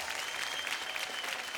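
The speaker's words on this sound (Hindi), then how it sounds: "पवन के लिए जोरदार तालियां।" A studio audience applauding for a guest named Pavan on a Hindi comedy show, a short burst of loud, dense clapping from a crowd, sustained evenly throughout.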